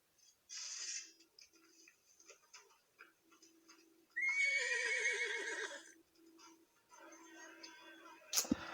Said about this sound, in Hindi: अब घोड़ा है, घोड़ा को भेज दो भाई